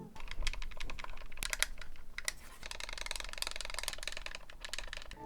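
Rapid typing on a computer keyboard, a dense run of clicky keystrokes with brief bursts and pauses, close and steady for several seconds with no voice.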